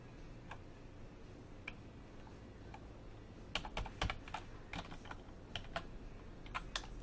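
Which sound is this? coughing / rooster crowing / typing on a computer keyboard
typing on a computer keyboard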